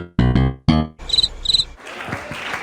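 Cricket chirping sound effect: a few clear, high-pitched chirps in quick bursts, following a short musical sting and giving way to crowd noise, on a comedy show.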